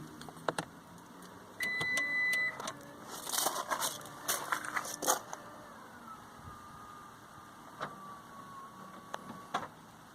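A Lexus RX 350 motorized tailgate closes with an electric motor whine, followed by a few clicks and clunks, quiet and close with faint background noise.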